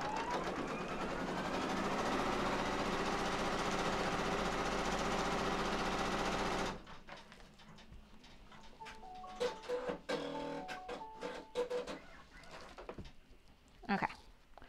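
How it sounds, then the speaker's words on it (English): Embroidery machine sewing a placement stitch for a pocket on an in-the-hoop tooth fairy project: a fast, steady mechanical whir and tick heard faintly, joined by clattering and knocking noises and brief talk. "I just ironed that while the placement stitch was going."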